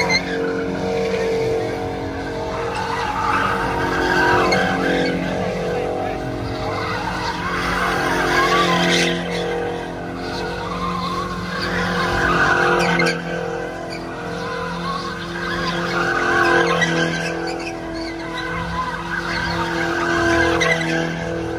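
A Dodge Hellcat doing burnouts at a street car takeover in Houston, with long, loud tire squeals and engine roar over a noisy crowd and some distant voices.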